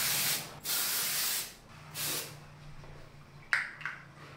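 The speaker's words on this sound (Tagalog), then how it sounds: "spray natin" Dry shampoo or a similar product is sprayed onto oily hair in two long, close hissing bursts, followed by a few faint handling noises.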